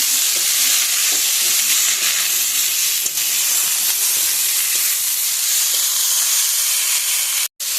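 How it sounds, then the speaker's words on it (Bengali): Sour leaves are stirred and fried with masala in a pan for a small-fish curry, making a loud, steady hiss and sizzle with occasional light scrapes, then a brief cut near the end. "অল্প দিয়ে ভালো করে নাড়িয়ে নেব।"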